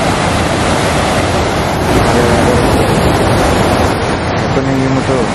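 A river flows beneath a bridge near a station in Japan, a loud continuous rushing wash of water with wind, close and steady, while a voice speaks faintly.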